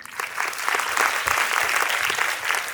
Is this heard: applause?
yes